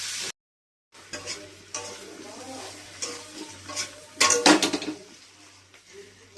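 A spatula stirring jackfruit curry as it is sautéed in a pan, producing scattered scrapes and metallic clinks over a light sizzle, with a louder clatter of strokes toward the end after a brief silent gap.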